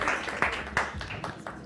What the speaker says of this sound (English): Can we please clap for our Alpha Fam?